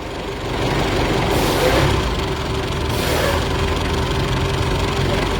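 Engine running after a cold start on a car with a worn timing chain and oil smoke, a steady loud drone with a swell as the accelerator is pressed, then settling back.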